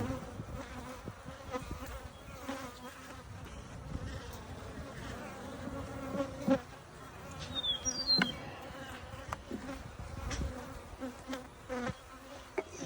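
A dense, steady insect buzz from many honeybees in a hive fills the clip, close and continuous, with occasional sharper passes of individual bees near the microphone.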